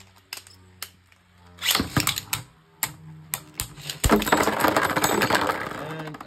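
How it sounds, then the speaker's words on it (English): Beyblade Burst tops, Wyvron W2 and Odax O2, launch into a plastic stadium with sharp scattered clicks and ticks, then spin and collide in a dense burst of rapid rattling and clattering that continues to the end. "3, 2, 1. Let it rip."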